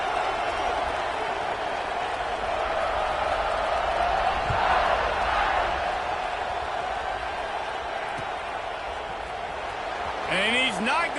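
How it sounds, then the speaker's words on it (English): A stadium crowd at a football game keeps up a dense, steady roar for the whole stretch, with swells of cheering and a brief rise near the end, while an announcer talks over it. "this crowd is buzzing after that last score"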